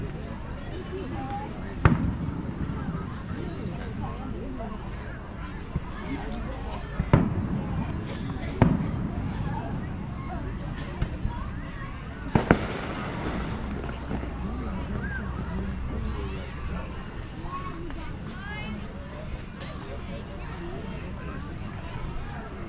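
Old-fashioned Fourth of July fireworks in Sterling, Kansas: several sharp, distant booms and bangs at irregular intervals over steady wind noise, with occasional voices in the background.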